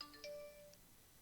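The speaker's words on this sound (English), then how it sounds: "You may have just heard my phone." A phone's notification chime, a few soft high ding-like tones fading over about a second, faint and alone behind quiet background hiss.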